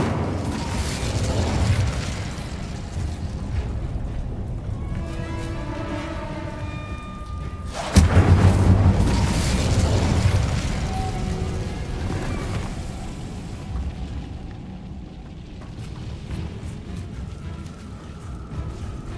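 Fire spell casting in a video game, with whooshing blasts and a loud booming burst midway, followed by lingering rumble.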